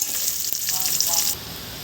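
Onions and whole spices fry in hot oil for Hyderabad-style bagara rice, a bright close sizzle that drops suddenly to a quieter hiss near the end.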